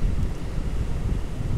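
Wind gusting on a beach at Port Aransas on Mustang Island, Texas, on a windy day with a high tide, a steady low roar buffeting the microphone throughout with no voices.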